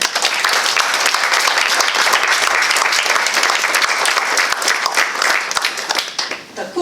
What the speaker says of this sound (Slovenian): Prosim za še en aplavz.